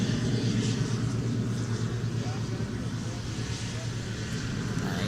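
A Southwest airliner taxiing at Minneapolis–St. Paul airport in winter, a steady droning engine rumble with a low hum that holds evenly and fairly close throughout.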